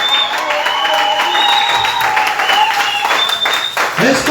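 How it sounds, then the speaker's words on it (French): A church congregation bursts into sustained applause acclaiming the Lord, dense clapping with crowd voices and a preacher speaking over it, loud and continuous throughout. "est-ce qu'on peut acclamer le Seigneur Jésus-Christ?"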